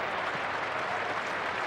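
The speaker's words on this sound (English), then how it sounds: "Every run receiving thunderous applause from this England, or from the England supporters in this crowd." A large cricket crowd at Lord's during a 2001 England v Pakistan one-day international applauds in a steady, dense wash of clapping that holds evenly throughout and sounds spread wide across the ground.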